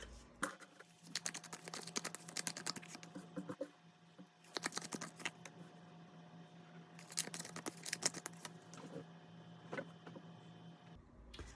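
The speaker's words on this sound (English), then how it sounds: "So I'm going to shuffle this and pull 3 tarot cards." Crisp bursts of card shuffling come in three separate flurries, close and fairly quiet, with a faint steady hum running underneath.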